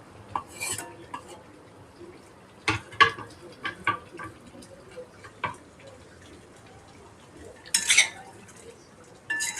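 Liver masala with ground paste and a little coriander being stirred and sautéed in a pan, with scattered spatula scrapes and clinks against the metal plus a faint background sizzle, fairly quiet and close.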